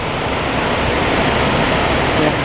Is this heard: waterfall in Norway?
yes